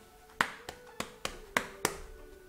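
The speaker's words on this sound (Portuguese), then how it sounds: "Nós também temos o som do peito e da barriga." Body percussion taps on the chest and belly give six sharp, hollow hand strikes at an uneven pace, close and distinct against a quiet background, with no voices.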